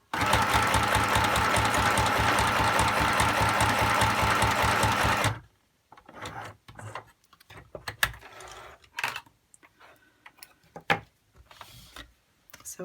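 A sewing machine zigzag-stitches along the edge of junk journal pages, a steady, rapid mechanical chatter lasting about five seconds before it stops, followed by scattered soft handling clicks and taps.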